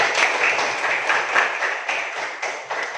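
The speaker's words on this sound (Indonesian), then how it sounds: "Mari kita berikan tepuk tangan yang mulia kepada" Classroom audience of children and parents claps together in a steady, dense burst of applause, close and fairly loud, holding evenly for a few seconds.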